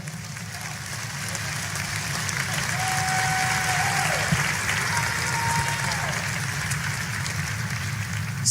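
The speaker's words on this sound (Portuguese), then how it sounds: "vamos glorificar ao Senhor com palmas" A church congregation claps to glorify the Lord, a steady, even wash of applause filling the room, with a voice heard over it.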